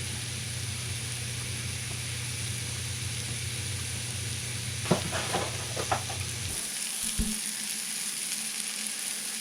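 Food sizzles steadily on a hot griddle for about six seconds, with a low hum underneath. A few scraping clatters follow, then the noise drops away and only a faint hiss remains.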